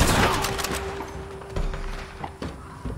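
Gunfire crackles during a Fort Mercer Call to Arms wave fight in Red Dead Online, with a loud burst at the start followed by scattered sharp shots. A steady tone runs underneath and faint talk joins in.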